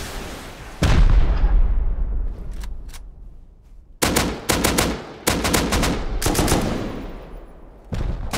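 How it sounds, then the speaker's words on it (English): Auto turrets fire in the video game Rust in loud, rapid bursts of gunshots with short gaps between volleys, close and without speech. "the turrets still shooting at you"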